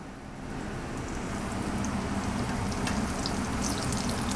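Banana pieces frying in vegetable oil in a home kitchen pan, a steady close crackling sizzle like light rain that holds at an even level throughout.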